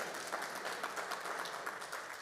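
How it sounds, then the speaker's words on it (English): An audience applauding at a school district State of the District event, a steady wash of clapping that stays even throughout, moderately distant. "big round of applause for that."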